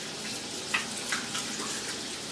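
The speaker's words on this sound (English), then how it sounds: "So I'll rinse this off" Tap water runs steadily into a bathroom sink while a face is rinsed after a wet shave, a soft continuous hiss at low level with a couple of brief splashes.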